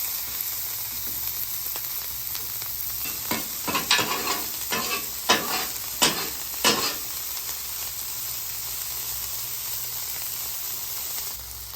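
Poblano and jalapeno peppers sizzle on a flat griddle in a steady, loud hiss, with a burst of scraping and stirring strokes in the middle as they are spread out to char.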